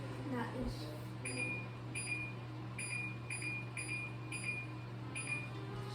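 A kitchen timer beeps while sugar cookies bake, sounding as a series of faint, evenly spaced high electronic beeps in pairs over a constant low hum, with a brief clatter near the start.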